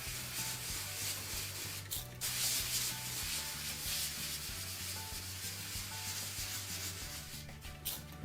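A hand rubs the third coat of a DIY concrete countertop in continuous, even scuffing strokes, close and alone with no talk.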